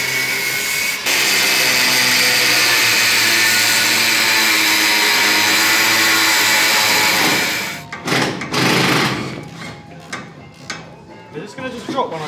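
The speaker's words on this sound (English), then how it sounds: "Grinders are back out." Grinders run in a workshop with a loud, constant high-pitched whine and broad grinding noise that holds steady for about eight seconds, then winds down into scattered clanks and knocks of tools being handled.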